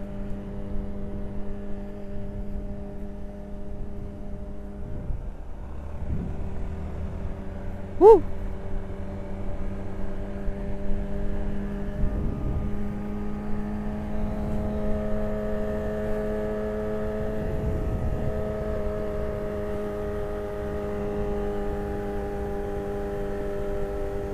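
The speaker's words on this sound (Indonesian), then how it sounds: "suara motor Aul nih dia khas gitu cuy" Motorcycle engine droning steadily while riding on an Indonesian road, a continuous mid-pitched hum with gentle rises in pitch and a brief sharp click near the middle, heard up close without talk.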